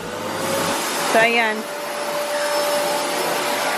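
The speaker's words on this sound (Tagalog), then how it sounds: "vacuum." A vacuum cleaner runs during house cleaning, giving a steady, loud whirring drone throughout. A voice speaks briefly near the start, and a short rising whine passes over the motor noise.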